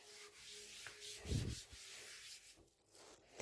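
Napkins being unfolded and rubbed across a surface to wipe up eraser crumbs, a faint close scratchy rubbing with one brief louder scuff, no talk.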